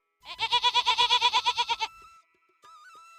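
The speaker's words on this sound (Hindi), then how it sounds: "दोनों बकरी भी आवाज देती।" A cartoon goat gives a loud, rapid wavering bleat of about a dozen pulses, followed by a brief pause and a faint, thin tonal sound.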